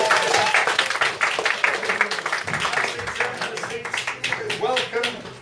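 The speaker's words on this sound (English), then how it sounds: "Round of applause for this gentleman." An audience at a live music gig gives a round of applause, a dense run of clapping that swells and rolls on, with a voice talking over it.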